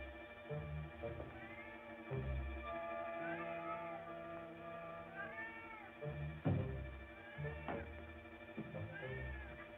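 Cat meowing repeatedly in drawn-out, wavering cries with caterwaul-like rises, several calls spread across the stretch over a steady low background hum, fairly close and loud.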